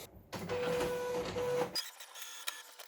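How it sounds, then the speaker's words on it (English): An Epson 1500 printer runs a nozzle check print, with a steady mechanical whir and a sustained motor tone for over a second, then it stops abruptly and only faint room noise and a small click follow. "Let's do another print nozzle check pattern."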